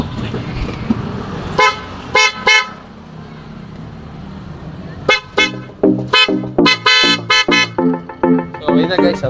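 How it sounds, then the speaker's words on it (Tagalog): A Honda Click 125 motorcycle's PIAA horn, installed with a relay, honks in short repeated bursts, first a few spaced toots, then a quicker series of beeps, loud and close. "testingin na natin yung kanyang busina"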